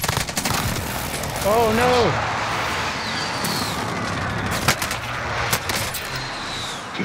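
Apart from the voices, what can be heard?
gunfire in Call of Duty video game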